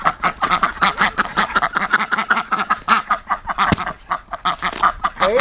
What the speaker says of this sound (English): Y'all have never seen ducks eat watermelon.